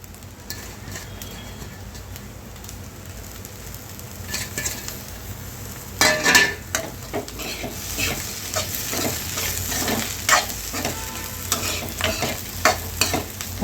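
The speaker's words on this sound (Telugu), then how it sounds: "బాగా ఫ్రై చేసుకుందామండి" Meal maker and egg fry with coriander powder and fresh coriander sizzles in a pan, first softly, then louder as a spoon stirs and scrapes in quick, uneven strokes.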